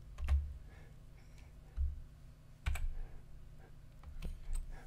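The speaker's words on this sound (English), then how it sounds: "So we then type first note," Keys on a computer keyboard are pressed during music notation entry in Sibelius 7, a few quiet separate clicks and taps with pauses between them, heard close in a quiet room.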